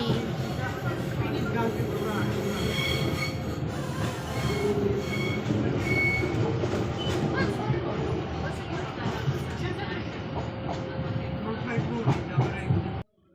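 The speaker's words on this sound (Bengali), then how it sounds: "এই যে আমাদের ট্রেন ছেড়ে দিয়ে আমরা চলে যাচ্ছি নাগলি" A passenger train running on its rails, a steady rumbling roll with wheel squeal and faint rhythmic clatter, heard from on board with people talking over it, cutting off abruptly at the end.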